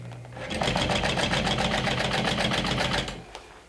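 A sewing machine runs in one steady burst of rapid, rhythmic stitching lasting about two and a half seconds, top stitching near the edge of a fabric pouch.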